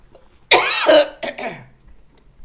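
A woman gives a single dry, hacking cough, a short harsh burst followed by a smaller rasping second cough, close and alone.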